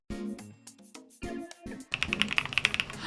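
Muted keystrokes on a Thinkway Toche F301 low-noise mechanical keyboard, a rapid uneven run of soft clicks and thuds, close by, following scattered separate presses.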